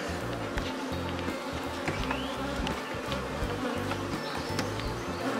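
Honey bees buzz steadily around a hive housing a recently caught swarm, a dense continuous hum of many insects close by with no talking.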